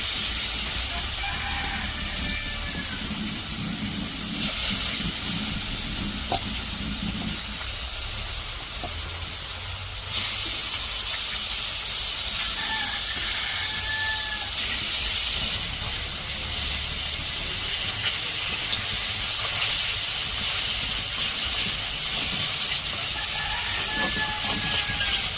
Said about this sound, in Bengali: তো ওই যে কড়াইয়ে মাছ দিয়ে দিল।